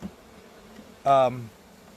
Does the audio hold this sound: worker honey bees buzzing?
yes